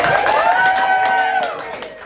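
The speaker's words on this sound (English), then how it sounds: "start clapping, start clapping" A comedy show audience claps and cheers at close range, with crowd voices and a high whoop over the clapping, easing off toward the end.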